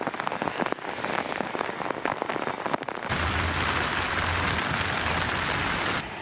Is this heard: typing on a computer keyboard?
no